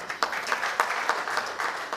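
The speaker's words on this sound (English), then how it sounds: "you both deserve a round of applause for that" A short burst of applause from a conference audience, steady rapid clapping heard at moderate distance.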